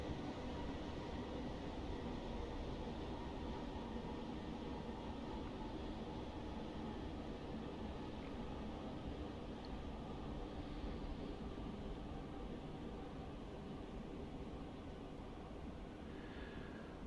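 Class 321 electric train running between London Euston and Milton Keynes in Train Simulator Classic, a continuous steady rumble and hum of the moving train heard alone from start to finish.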